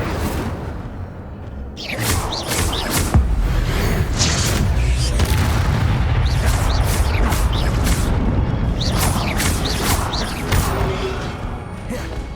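Incendio fire spell cast in the Hogwarts Legacy video game, loud whooshing bursts with boomy fiery crackles repeating over about twelve seconds against a dense rumbling game soundscape.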